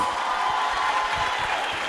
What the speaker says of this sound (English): let us give Telkom a round of applause